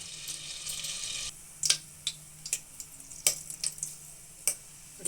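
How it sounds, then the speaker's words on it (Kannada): Mustard seeds spluttering in two to three tablespoons of hot oil on a stove, with a hiss at first and then scattered sharp pops and crackles at close range and no talking. "ಸಾಸಿವೆ ಸಿಡಿತಾ ಇದೆ"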